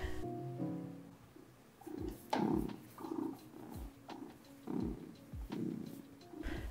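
A pet cat sitting on a desk purrs close by in soft, rhythmic pulses, each breath cycle rising and falling about once a second, with a few faint taps.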